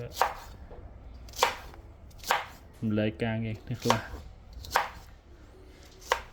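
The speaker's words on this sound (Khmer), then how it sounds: "ហាន់បន្លែឲ្យអស់សិន" Vegetables are chopped with a knife on a board in a home kitchen while making Vietnamese sour soup: sharp, close strikes fall roughly once a second, with a brief stretch of talking in the middle.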